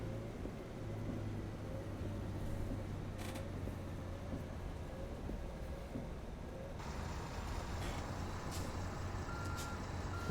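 Steady reversing beeps from a truck in American Truck Simulator repeat over a constant low engine drone, loud and close, with no talking.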